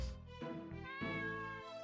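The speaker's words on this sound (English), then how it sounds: "It's a kitty." A cat meows in the video game Legionwood, two or three short, clear, tonal meows heard close and alone, with nothing else over them.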